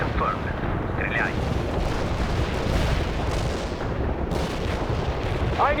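A heavy artillery barrage in the World in Conflict strategy game, Soviet assault: relentless overlapping booms and blasts rolling on without pause, loud and dense, with brief radio voices in the mix.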